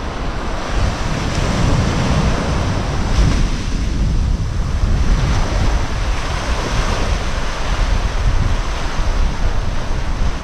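Surf washes steadily onto a quiet, empty beach in Thailand, a continuous near roar of breaking waves with wind buffeting the microphone throughout and no voices.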